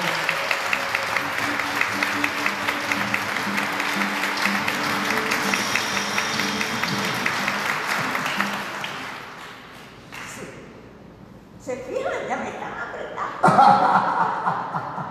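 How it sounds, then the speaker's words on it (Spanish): Welcoming applause from a church congregation at a Sunday Mass, a sustained patter of clapping with scattered chuckles that fades out, then talk and murmuring resume. "Un aplauso de bienvenida."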